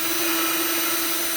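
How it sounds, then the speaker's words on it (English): A steady, continuous drill whine with a constant pitch, close and loud, drilling mounting holes for a fan, running without a break for the whole short stretch. "drill the holes for mounting the fan"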